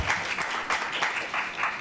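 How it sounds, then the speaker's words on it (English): An audience at a homelessness summit claps in a short, moderately loud burst of scattered applause. "Yeah, that's worth clapping about."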